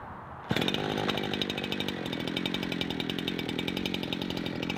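A portable chainsaw mill starts cutting slabs from a big log, the chainsaw snarling loudly and steadily at close range with a sharp onset, no voices heard.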